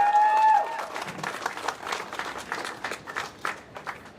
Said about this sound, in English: Give a round of applause to Diana Chan McNally and all of you.